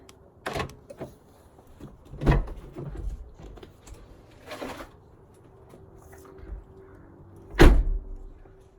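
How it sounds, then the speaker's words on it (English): A Mercedes W203 C32 AMG car door being unlocked with its door panel off, giving a few separate mechanical clunks and clicks spread out over several seconds, the last one loudest and closest. "Just unlock the door here."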